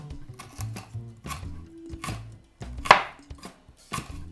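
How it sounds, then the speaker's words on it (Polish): A knife chops garlic on a cutting board with crisp, uneven taps in quick bursts and short pauses, close up, with no talking. "teraz będę siekała czosnek"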